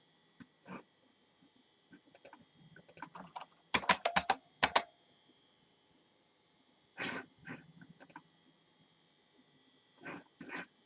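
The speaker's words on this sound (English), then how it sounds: "Let me make sure I typed in the right password here." Someone types a password on a computer keyboard: short clusters of crisp, close key clicks separated by quiet pauses.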